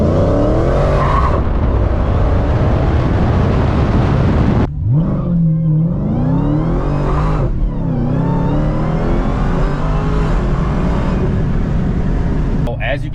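A Dodge SRT Demon 170 launches hard, its engine screaming up through rising revs with gear changes and brief lifts, loud and close, with tire noise.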